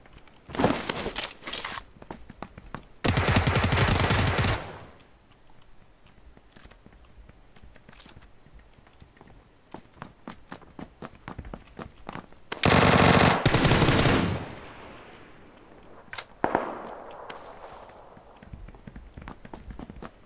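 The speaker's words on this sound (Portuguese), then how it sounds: "Tiro." Video game gunfire: loud bursts of rapid automatic fire, close and sharp, separated by stretches of quieter in-game footsteps and rustling.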